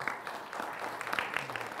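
A brief patter of applause from a small group, fairly close and steady, with a voice murmuring faintly underneath.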